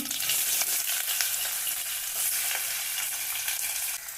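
Onions sizzling in hot oil with mustard seeds and cumin for a radish sambar, a steady loud crackling hiss with light stirring, close up and without talk.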